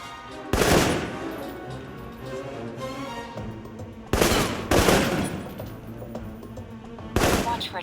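Assault rifle fire in the video game Alpha Protocol: three sharp, loud bursts spaced several seconds apart, each a short rattling volley over a low ambient background.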